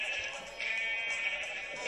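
Sheep bleating in a Minecraft server game, a continuous wavering nasal bleat lasting about two seconds at moderate level, with no talk over it.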